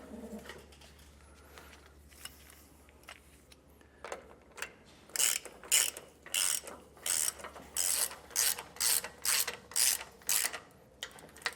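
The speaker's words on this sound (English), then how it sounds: "I'm going to take my 19mm socket and wrench. I'm going to tighten down each of these bolts." Ratchet wrench with a 19mm socket snugging bolts on a rear anti-sway bar install on a 2005 Coachmen Mirada motorhome, heard as a run of about ten sharp, evenly spaced clicking bursts, close and clear, with no talk.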